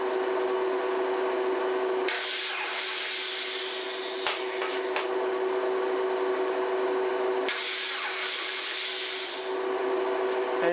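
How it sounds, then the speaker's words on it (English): Biscuit joiner running continuously as it cuts slots into wooden table legs, with two louder whining plunges into the wood over a steady motor drone, close and without talk. "For the legs, I brought the biscuit cutter back to 90 degrees and adjusted the height."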